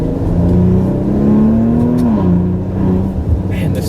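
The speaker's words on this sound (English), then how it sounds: "This 3-liter has a ton of torque, and especially in the S with the 430 foot-pounds, man, it really goes." A 2017 Maserati Levante S with its 3-liter engine pulls hard under acceleration, a loud, steady engine drone rising in pitch and then shifting down, heard from inside the SUV with no talking.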